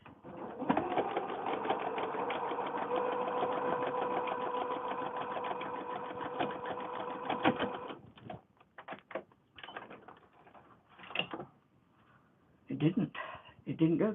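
A sewing machine stitches a mini quilt with sequins on it. It runs in a steady, loud mechanical whirr for about eight seconds, then gives short bursts of stitching with brief pauses between them.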